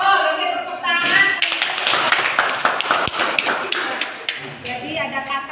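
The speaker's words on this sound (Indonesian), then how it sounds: "Oke, tepuk tangan." A classroom group claps together, a burst of quick, fairly close hand claps lasting a few seconds, with voices talking just before and after.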